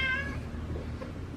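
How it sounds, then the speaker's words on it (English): A cat gives a single short meow at the start, faint against steady background noise outdoors. "Look at this cat."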